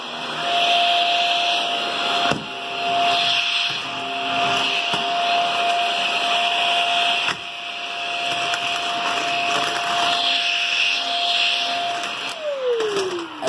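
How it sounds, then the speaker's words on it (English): A Shark Rocket vacuum cleaner runs close and loud with a steady high whine and broad airflow roar, a few brief bumps along the way, then its motor pitch sweeps down as it shuts off at the end. "Just got done vacuuming the shark."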